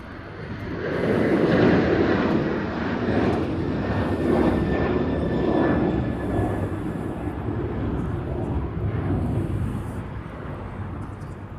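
A jet airplane roars steadily departing LAX for Lihue, a loud rumbling engine noise that swells and slowly fades, with faint distant background sounds.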